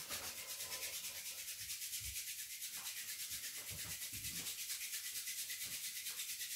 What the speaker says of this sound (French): Et on frotte à nouveau les mains.